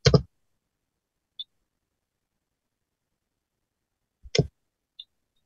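Two sharp, isolated key clicks on a computer keyboard, each followed about a second later by a faint tiny tick, separated by long silence.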